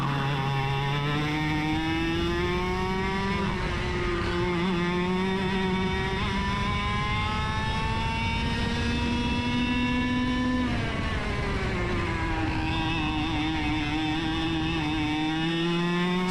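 Racing kart engines screaming on a track, a loud continuous two-stroke whine rising and falling in pitch through acceleration and braking, with a second kart's engine close behind.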